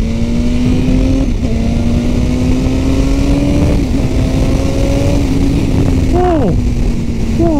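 A 1000RR sport motorcycle on a highway is dropped to second gear and revved: a steady close engine drone climbs in pitch, then ends in a sharp rising-and-falling rev burst, with wind roar throughout.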